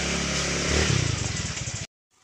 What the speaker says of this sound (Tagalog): So gamit niya tong motor o hakot-hakot.